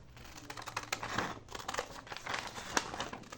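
Scissors trim handmade women's slipper material close by, with crisp crinkling snips and rustling in an irregular run of short bursts, and no talking.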